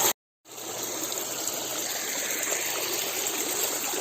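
Irrigation water released in a controlled flow courses through an unlined earthen channel toward organic cabbage and pea fields, a steady close rushing gurgle after a brief silent gap at the start.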